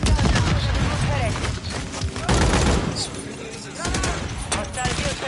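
Gunfire in Call of Duty: Modern Warfare 3 on the Shipment map, dense bursts of rifle and machine-gun shots with booms, loud and nearly continuous, with in-game voices calling out over it.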